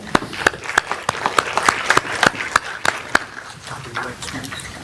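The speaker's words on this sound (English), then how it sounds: "Clap it up." Applause and scattered clapping at a school board meeting honoring a student, a steady patter of many hands with sharp individual claps standing out, fairly close, with murmured voices underneath.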